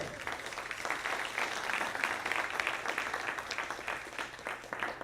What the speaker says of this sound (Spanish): les pido un fuerte aplauso para nuestro expositor